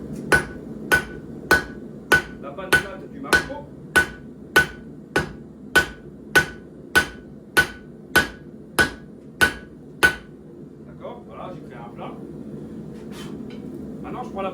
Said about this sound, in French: je vais déjà créer un plat avec la panne plate du marteau